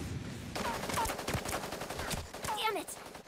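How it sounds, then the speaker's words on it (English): Gunfire in the mech battle royale game Super Mecha Champions, with repeated sharp shots crackling through a dense, busy mix of game effects and whistling tones. "Shots heard."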